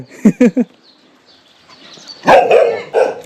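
A dog barks near a small village shop in rural Thailand near the Myanmar border, three quick close barks followed by louder yelping, with a voice speaking nearby.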